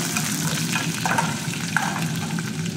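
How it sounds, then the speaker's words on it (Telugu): Chillies and curry leaves frying in hot tempering oil for a capsicum chutney, giving a steady close crackling sizzle with a few light scrapes of stirring throughout. "మిరపకాయ, కరివేపాకు, తిరగబాతులో ఇది కూడా కొంచెం దోరగా వేసుకోవాలి"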